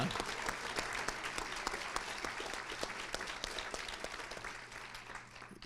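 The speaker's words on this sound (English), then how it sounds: "hey, round of applause" Audience applause for military veterans at a county Republican party gubernatorial forum in Oregon, a dense, sustained wash of many hands clapping that holds steady and slowly fades near the end, with no talk over it.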